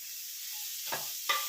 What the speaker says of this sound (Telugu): ఇదైతే కొంచెం పచ్చి వాసన పోయే వరకు వేగాలి